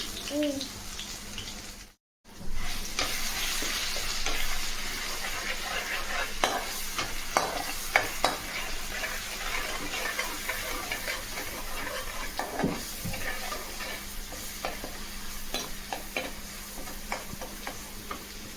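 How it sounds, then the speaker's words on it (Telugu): Ginger garlic paste frying in hot oil for boti fry, a steady close sizzle with scattered stirring clicks and scrapes, briefly cut to silence near the start, then continuing alone. "ఆయిల్ హీట్ అయిన తర్వాత అల్లం వెల్లుల్లి పేస్ట్ వేసుకోవాలి"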